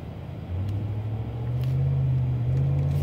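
A 2016 Ram 1500 Sport crew cab 4x4 pickup engine accelerating, a low droning rumble that steps up in pitch and swells louder as the gas is applied, heard from inside the cab.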